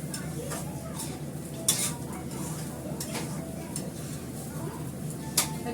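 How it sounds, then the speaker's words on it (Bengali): Khichdi tempering frying in ghee in a home kitchen pot, a low steady sizzle with a few sharp clinks of a spoon against the pan as it is stirred. "এটা ঘি দিয়ে ভালো করে সম্বর দিয়ে নিলাম, ফ্রাই করে নিচ্ছি ভালো করে।"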